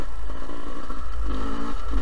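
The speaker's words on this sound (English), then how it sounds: "the Beta 300 RR Race Edition, and I'm just doing some braking time on the bike" A 2019 Beta 300 RR Race Edition two-stroke dirt bike ridden gently during break-in, its engine a steady, close, low-pitched drone with a slight rise and rattle and no sharp revving.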